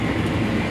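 A KRL Commuterline electric commuter train runs on rails near Jakarta, heard from inside the carriage as a loud, steady rumble with dense wheel and track noise.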